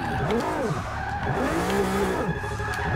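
Nissan GT-R R35 drifting in Forza 6, with a loud continuous engine note rising and falling in arcs as the revs swing, layered over steady tire squeal and skidding.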